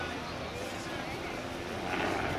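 An Air Total Calidus autogyro flies low along the display line at an air show by the sea, its engine and rotor droning steadily and fairly loud without a break.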